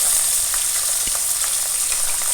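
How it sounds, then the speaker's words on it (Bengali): Pabda fish frying in hot mustard oil, a steady close sizzle with scattered crackles and pops across the whole stretch and no voices. "তেলটা এখানে গরম হয়ে গেছে। একে একে মাছগুলো দিয়ে ভেজে নেব।"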